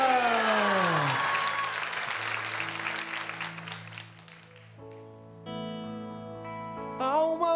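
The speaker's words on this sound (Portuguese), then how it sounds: "E vamos aplaudir Jesus." A church congregation at adoration claps and cheers in a burst that fades out, followed by sustained keyboard chords with a voice singing or calling over them.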